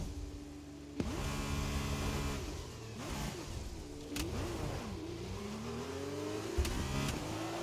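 A race car engine in a video game revs and whines through rising and falling pitch sweeps as the car spins out, with sharp clicks and bumps between, steady and close, with no talk.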